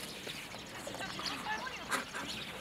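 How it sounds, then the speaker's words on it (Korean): Birds call at a farm, with honking, quacking-like cries scattered through a dense outdoor wash of noise, fairly close and continuous. "이 새들이 저희를 반겨줍니다."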